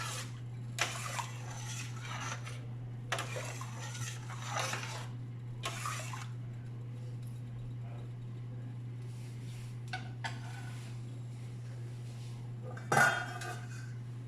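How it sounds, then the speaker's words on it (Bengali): A pot of rice for hilsa pulao on a medium flame is stirred and then covered with a lid: bursts of scraping and rustling in separate spells, then a sharp clatter of the lid near the end, over a steady low hum. "এবার একটু নেড়ে আমি এটাকে ঢেকে দিই"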